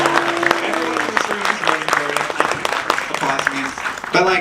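Audience applause fills a room at a Q&A with the creators of KPOP Demon Hunters, steady and dense, with voices speaking over it throughout and a burst of cheering near the end.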